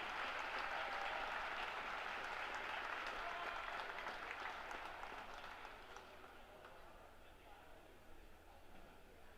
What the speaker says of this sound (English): Let's give a big round of applause for Hayden and a great moment for Wheaton Ac